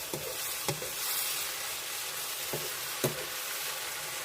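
Squash and pork stir-frying in a pan, a steady close sizzle running throughout, broken by a few sharp clacks of a utensil against the pan.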